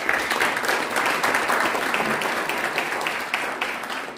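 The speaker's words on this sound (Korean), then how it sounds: "응원의 박수 한번 다시 부탁드립니다" Audience applause at a Korean political rally against media control, steady dense clapping from a crowd that holds evenly for about four seconds with no talk over it.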